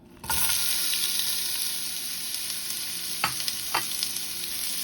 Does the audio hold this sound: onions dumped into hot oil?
yes